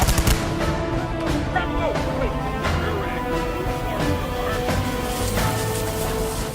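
A gunfire volley from militiamen during a revolution, a series of sharp shots spread irregularly across the scene, mixed with shouting voices and a busy dramatized background.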